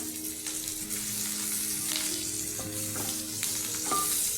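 Chopped onion softened in oil in a frying pan with half a spoon of turmeric powder added, sizzling steadily and continuously with occasional scraping and stirring clicks from a utensil, close and fairly loud, no talking.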